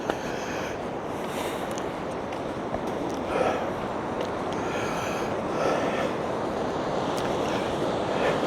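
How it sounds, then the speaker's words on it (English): Ocean waves wash onto a shore at high tide beside a hilltop road on the Bellarine Peninsula, a steady broadband roar with gentle swells and some wind buffeting the microphone. "the waves are crashing in"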